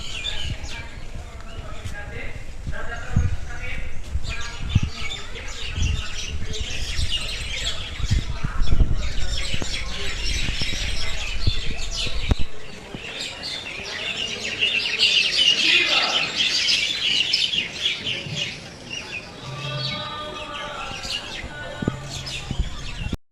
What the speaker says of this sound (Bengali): এই শ্যামকুণ্ড ধরে সামনে এগোনোর পরে আমি শুনলাম অনেকগুলো পাখির আওয়াজ